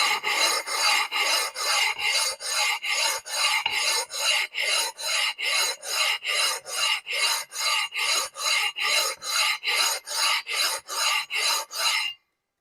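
A flat stone rasps back and forth across an engine block deck surface in a home shop, steady rhythmic scraping strokes, close and consistent, repeating about twice per second before stopping.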